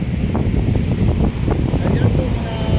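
Steady sea wind blowing along the edge of Manila Bay, a continuous loud rush buffeting the microphone, with surf-like roar underneath and no pauses.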